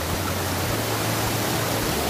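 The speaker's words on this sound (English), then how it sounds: "walk up to the top of the waterfall right here" Steady, close roar of a jungle waterfall on Koh Samui, an unbroken wash of falling water with no other sounds on top.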